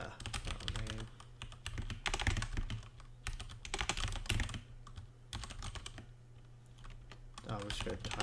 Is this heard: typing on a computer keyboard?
yes